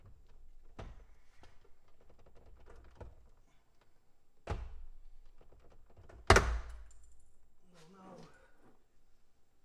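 A sharp loud crack and snap of plastic clips popping free as a Porsche door panel is pried off by hand, following a few dull thumps and knocks, with scraping and rattling after.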